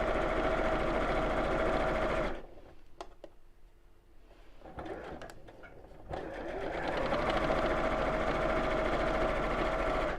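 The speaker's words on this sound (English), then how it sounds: "and sew straight across." Sewing machine stitching straight across a row of fabric pennants tucked inside a folded strip, running steadily, pausing for a few seconds of quiet clicks, then resuming its fast even whir up close.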